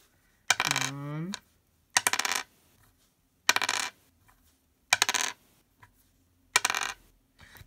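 An 8-sided die rolled again and again on a hard surface: five separate clattering bursts, each about a second of rattling tumbling and bouncing, spaced by short quiet gaps, close and fairly loud.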